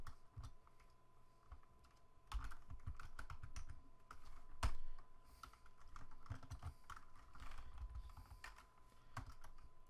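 Rapid typing on a computer keyboard while writing code, a steady run of close, clicky keystrokes with irregular bursts and brief pauses, no voices.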